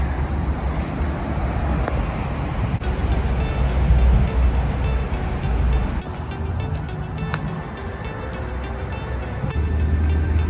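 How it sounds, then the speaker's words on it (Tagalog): Railway trains standing on tracks in a flooded city, with a steady loud rumble of rail and road noise and some wind running throughout. "Ito yung mga tren, oh, nakatambay."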